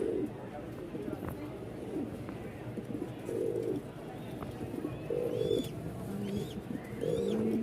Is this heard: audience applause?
no